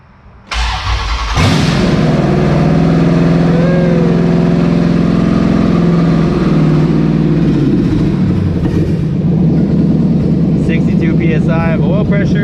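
A 6.4L HEMI V8 in a Dodge Dakota cranks and fires up loudly, then settles into a steady, close, rumbling idle with a brief rev; a voice speaks toward the end.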